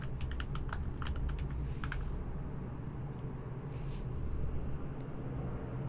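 Rapid keystrokes on a computer keyboard as a password is typed, a quick burst of clicks in the first two seconds, then a few scattered taps, close and clear over a steady low hum, with no talking.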